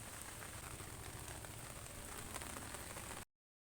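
Steady rain falling on a windy day, a faint, even hiss of drops with no voices, stopping abruptly after about three seconds.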